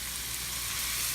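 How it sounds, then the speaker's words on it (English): Onions hiss and sizzle steadily in hot flavored oil in a pan, a brief, even frying sound with no speech. "we're going to flavor this oil. Now, you want to throw in your onions."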